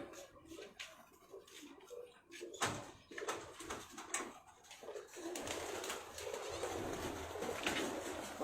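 Pigeons coo softly in low, murmuring calls amid background rustle and scattered knocks, followed by a louder broadband wash of noise in the second half.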